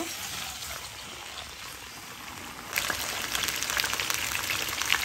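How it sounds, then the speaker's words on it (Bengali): Gourd greens sauté in a pan with tempering spices, a soft steady sizzle that jumps louder and crackles more busily partway through, with no talking. "সবজিটা দেওয়ার পরে এবার ফোড়নের সাথে একটু 2 মিনিটের মতো কষিয়ে নেব।"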